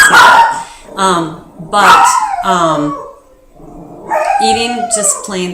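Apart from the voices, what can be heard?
dog barking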